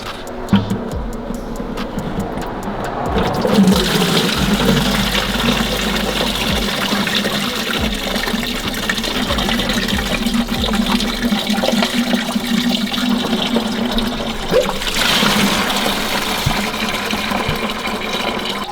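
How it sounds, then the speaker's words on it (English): Coolant rushes out of a car's pulled lower radiator hose into a bucket, a loud continuous gushing pour that steadies into a constant splashing flow. "I just pull the lower radiator hose and let it dump out"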